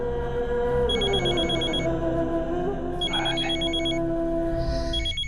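A telephone rings in repeated electronic bursts over a steady background hum, with no one speaking.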